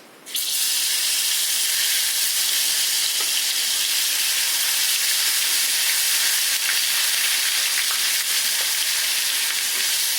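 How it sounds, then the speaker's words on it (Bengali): Garlic paste frying in a hot pan for laal shaak, a loud, steady close-up sizzle that bursts in at once and holds evenly throughout, with no talking. "এরপরে বন্ধুরা এখন দেব রসুন পেস্ট।"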